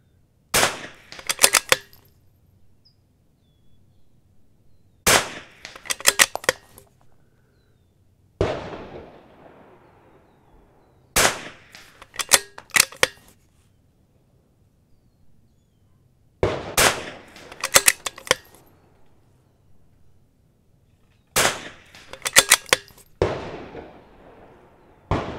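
Rimfire rifle shots ring out at targets on an outdoor range, fired in quick clusters of two to four sharp cracks separated by pauses of silence, each burst loud and close with a short echo.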